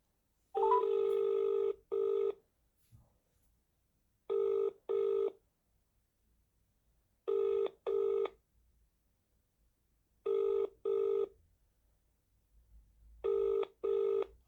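Touch-tone telephone keypad tones sound on a call to a care home, arriving in evenly spaced paired bursts roughly every three seconds, clear and steady against near silence.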